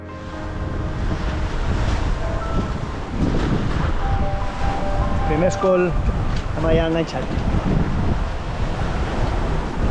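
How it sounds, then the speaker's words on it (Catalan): Wind roaring across the microphone and ocean waves washing around a small boat far out at sea, loud and continuous, with someone speaking over it. "ara el vent ha pujat"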